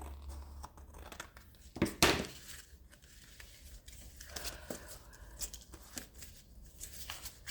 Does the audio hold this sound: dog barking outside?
no